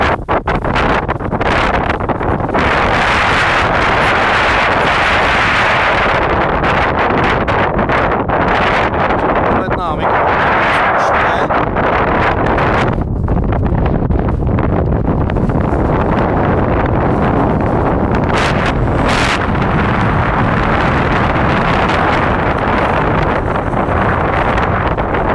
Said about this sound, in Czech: Velké poryvy větru.